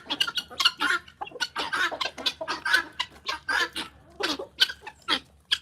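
Several colorful roosters crow and cluck in a busy backyard flock, calls overlapping in dense bursts one after another, fairly close and loud with no talk.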